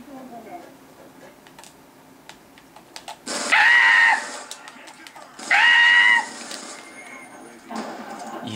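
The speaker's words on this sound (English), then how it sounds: "people screaming while shooting does work" Two loud bursts of a player screaming over the action of a Call of Duty Black Ops 2 multiplayer match, each lasting about a second, with quieter game sounds between them.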